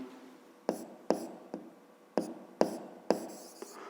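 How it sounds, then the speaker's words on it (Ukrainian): A pen writes by hand, probably on paper during a geometry exercise, giving a series of about eight sharp, close taps and scratches at uneven intervals against a quiet background. "Пишемо."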